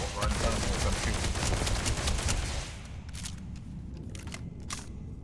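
A rapid burst of gunfire from a firefight in Starfield, dense and close for a few seconds, then thinning into scattered distant shots over quieter background ambience.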